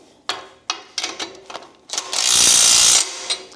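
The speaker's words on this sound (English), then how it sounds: "from underneath, you just tighten up the bolts" Ratchet wrench tightening bolts underneath a PowerLift sled lift, with a few quick separate clicks followed by a longer continuous burst of rapid ratcheting, close and fairly loud.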